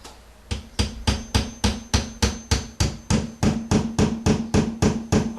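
Hammer tapping on a wall to locate a stud, about twenty sharp, evenly spaced knocks in a steady rhythm, loud and close, each with a short resonant ring.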